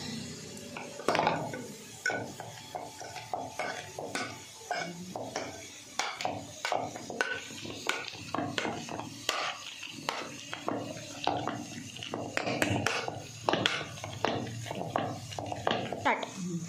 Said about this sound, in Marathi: कांदा लाल होईपर्यंत आपण इकडं मॅश करून घेऊया